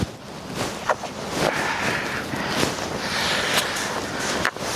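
Steady outdoor wind in winter, a broad continuous rush with gusty swells and rumbling buffeting on the microphone, close and fairly loud throughout.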